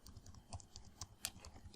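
Typing on a computer keyboard into a web browser search bar: a quick, steady run of light key clicks up close, with no talk.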